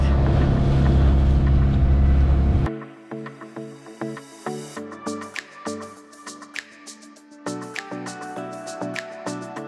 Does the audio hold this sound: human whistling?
no